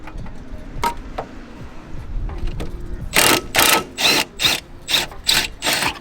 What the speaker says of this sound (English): Can I just say how much I am absolutely in love with this impact? This takes these off like butter.